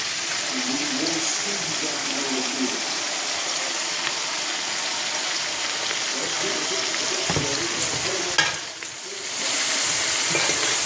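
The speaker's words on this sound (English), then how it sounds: "So essentially what you're doing is frying it." Shredded cabbage frying in a pot for smothered cabbage gives a constant broad hiss and crackle that runs throughout, close and fairly loud, with a brief dip near the end.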